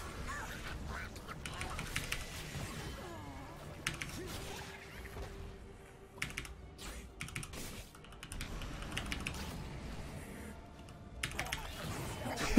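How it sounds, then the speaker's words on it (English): Computer keyboard keys hammered in rapid, uneven bursts while playing Heroes of the Storm as Abathur on Cursed Hollow, clattering close and dry over game sounds, with someone speaking at times. "Spamming keys always works."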